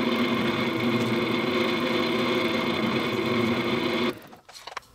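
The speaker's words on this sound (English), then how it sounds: "we are going to drill this 1/8 diameter through hole centered on our 3 inches and 1/4 of an inch back from the edge." A drill bores a 1/8-inch through hole in maple wood for a table runner, giving a steady, loud mechanical whine that runs unbroken and then cuts off abruptly near the end, leaving a few faint knocks.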